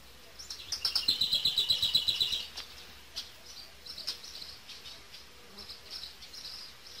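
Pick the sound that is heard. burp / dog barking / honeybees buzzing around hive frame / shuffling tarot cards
honeybees buzzing around hive frame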